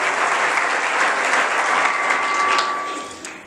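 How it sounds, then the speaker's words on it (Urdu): A church congregation claps loudly and steadily in sustained applause, dense and close, with a few cheers mixed in before the clapping thins slightly at the end. "آئیں ذرا یسوع مسیح کے لیے ذرا زوردار تالیاں تو بجا دیں"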